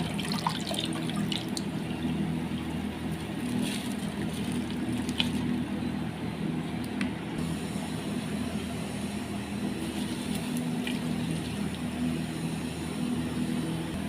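Water pours steadily into a cooking pot for kabsa, a continuous rushing, gurgling stream heard at close range without any talking.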